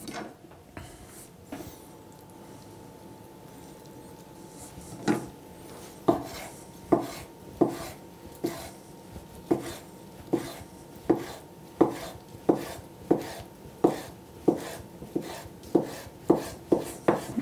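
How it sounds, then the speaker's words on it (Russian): A kitchen knife chops ham into thin strips on a cutting board, giving a steady series of crisp, evenly spaced knocks close by after a quiet start. "Ветчину нарезаем тонкими полосками."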